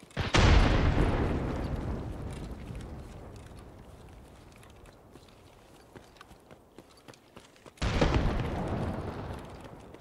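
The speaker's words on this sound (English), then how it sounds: "Somebody threw a grenade." Grenade explosions in Escape from Tarkov: two loud booming blasts several seconds apart, each with a long rumbling decay, the quiet gap between them broken by faint ticks and clatter.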